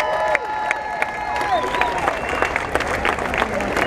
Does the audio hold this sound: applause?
yes